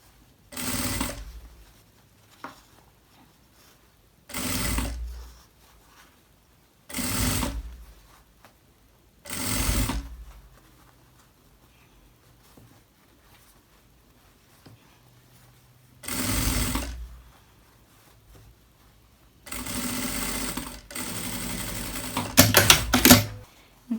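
A sewing machine runs a seam joining a lining to the outer fabric in short separate bursts of rapid stitching, about six runs with pauses between them, and the last run is longer.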